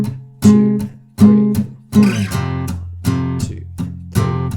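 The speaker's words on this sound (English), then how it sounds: "we're going to add some accents to this strumming pattern." Accented, palm-muted acoustic guitar strumming for a song plays alone and close, strong chord hits alternating with short damped strokes in a steady rhythm.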